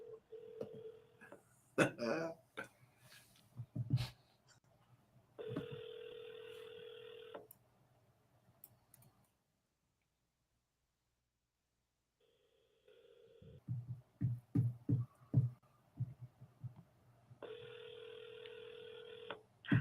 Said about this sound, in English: He's literally dialing again, Ryan.